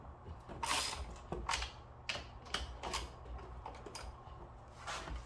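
Bar nuts on a chainsaw being tightened back down after a new chain is fitted, heard as irregular metallic clicks and ratcheting ticks at close range, moderately quiet, with no voices.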